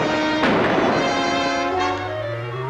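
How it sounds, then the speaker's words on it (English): Gunshots fired at a man in a radio drama, a sharp report followed by a second fainter shot over a sustained musical backing. "now they are starting to shoot at me"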